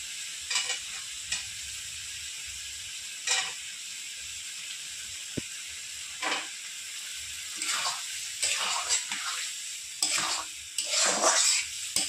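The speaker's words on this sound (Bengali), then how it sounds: "ভালো করে সমস্ত মশলাগুলো আমি ভালো করে কষিয়ে নেব" Spice paste of ginger, onion, garlic, chilli and tomato fries with green peas and cumin powder, a bright sizzling hiss punctuated by bursts of stirring and scraping, near and moderately loud, with no speech.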